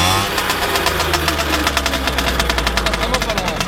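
MBK 51 Roadster moped engine running close by, a loud, steady buzzing two-stroke putter with rapid regular pulses that quicken slightly toward the end.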